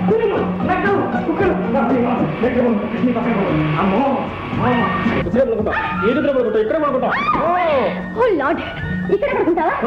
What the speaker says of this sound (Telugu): కుక్కల అరుపులు.